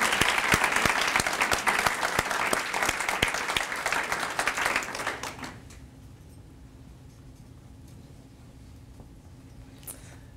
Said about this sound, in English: please give everybody a round of applause for what a great time